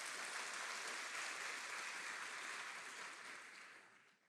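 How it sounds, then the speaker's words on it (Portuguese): A church congregation applauds Jesus loudly after a prayer, a sustained, even roar of many hands clapping that gradually tapers off at the end. "aplauda Jesus bem forte"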